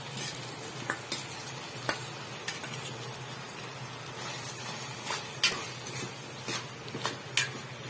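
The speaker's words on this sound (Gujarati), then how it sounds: "હવે આપણે પૌવા લઈ લઈશું મિક્સ કરી દઈએ" Soaked, drained poha stirred into gravy in a pan for batata poha, soft continuous frying hiss with a string of light spoon scrapes and clicks against the pan at an irregular pace, close and quiet.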